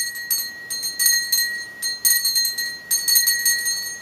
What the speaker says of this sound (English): You pick up the bell in your left hand again,